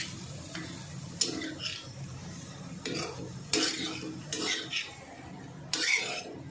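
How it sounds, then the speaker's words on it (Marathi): Fenugreek leaves and potato stir-fried in a pan over low heat for a spicy methi-potato dish: repeated scraping spoon strokes against the pan over a soft, steady sizzle, close and fairly quiet. "हे अशी परतून परतून घेतानाच मेथीची भाजी पण ह्याच्यामध्ये शिजून जाते"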